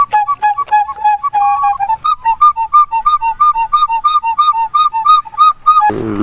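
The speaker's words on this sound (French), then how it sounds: "Des flûtes fixées sur une bouteille. La bouteille est percée en son fond, ce qui laisse passer l'air." A recycled flute fixed to a bottle with a pierced base, pushed into water so rising air blows it, whistles in a quick run of clear, steady tones, then a rapid, evenly repeating pattern, ending in a brief splashy burst.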